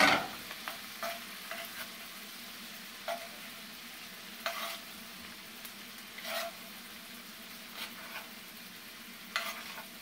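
Parsley stirred into a buttery wine-and-garlic sauce for seared scallops and lobster tail, with a soft steady sizzle under scattered scraping strokes of a spoon close by; no talking.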